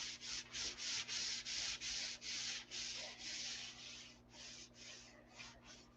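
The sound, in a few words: sanding a lacquer finish before painting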